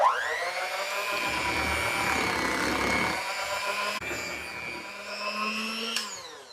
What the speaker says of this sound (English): we're again gonna get our beater and mix that together.